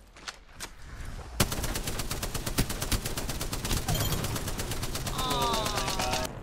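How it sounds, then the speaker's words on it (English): Rapid automatic gunfire from weapons in Apex Legends, a dense unbroken stream of shots fired continuously while moving downhill, with a reload and more firing near the end. "I'm just gonna not stop shooting the whole way down this hill."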